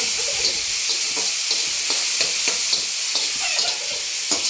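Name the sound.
stirring cut potatoes frying in a pan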